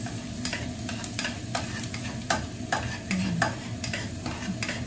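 Garlic fries in a pan for fried rice, a steady close sizzle punctuated by regular clacks of a utensil stirring and scraping the pan.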